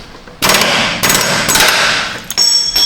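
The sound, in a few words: hammer striking ball joint on Chevy Tahoe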